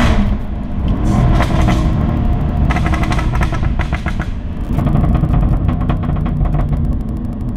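A Jaguar F-Type SVR engine roars loud and close, surging through revs with rapid machine-gun-like exhaust crackles and pops, easing briefly before building again.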